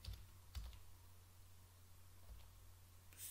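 Quiet, close keystrokes on a computer keyboard tap out a short burst of typing, with a few sharper clicks at the start and the end, over a faint room hum.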